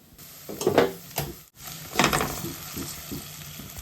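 Potatoes dropped into hot sunflower oil in a pan, frying with a steady close sizzle and a few clinks and scrapes of stirring.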